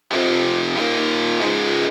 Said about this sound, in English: Put it through a guitar amp speaker.